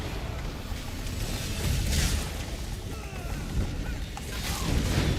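Bombing explosions in a PvP match of an online game with a Necromancer class rumble as a dense, continuous low barrage of booms and crashes, fairly loud with several heavier surges and no talk over them.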